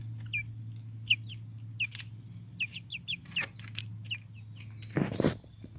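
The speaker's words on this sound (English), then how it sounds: "Dumb birds." Backyard chickens cluck and chirp in short, repeated calls over a low steady hum, with a louder clatter near the end.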